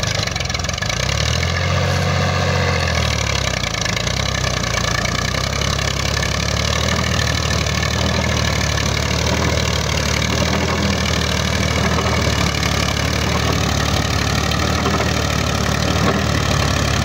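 A Massey Ferguson 135 tractor engine runs steadily while driving a 42-blade rotavator in a field, a loud, continuous low diesel drone with constant mechanical clatter, close by and without voices throughout.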